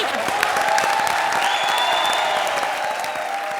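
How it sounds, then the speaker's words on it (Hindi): Steady applause from an audience, many hands clapping continuously at an even loudness throughout. "बजा तो बजाओ ताली भाई लोग, बजाओ ताली।"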